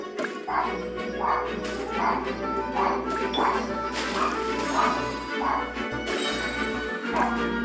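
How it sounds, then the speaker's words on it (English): A dog barks repeatedly in a steady series of woofs over a loud constant background hum, with some speech mixed in. "Why the dog barking?"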